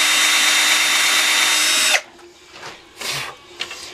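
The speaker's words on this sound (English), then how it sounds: "I took the drill and went through down a little bit where I made my awl marks" A power drill bores through a metal license plate, a loud steady whine that runs continuously and then cuts off abruptly, followed by quieter scraping and handling noises.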